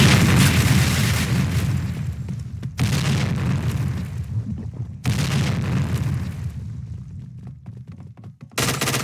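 Grenade and gunfire blasts in the Point Blank shooter game, with a heavy, dense booming roar that surges in several loud waves separated by brief quieter gaps.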